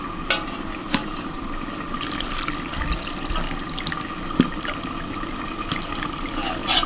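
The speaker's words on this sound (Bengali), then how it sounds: "এবার একটা ছাঁকনি দিয়ে ছেঁকে দেবো।" Boiled mutton leg bone broth, cooked in a pressure cooker, being strained through a sieve in a kitchen: a steady close pouring and trickling of liquid with small clinks and splashes.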